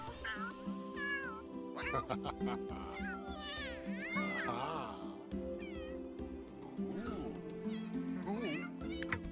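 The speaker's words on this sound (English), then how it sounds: "I think there's a cat down there he's playing with." In The Sims 3, a cat meows over and over in short, rising and falling calls, some drawn out into a caterwaul, while a game voice chatters along beneath it.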